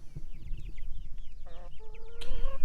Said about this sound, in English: The various chicken breeds in this little pen are becoming easier to distinguish